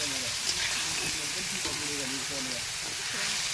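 Onion frying in oil with ginger, garlic, green chili and salt, a steady close sizzle and hiss throughout, with a voice talking over it.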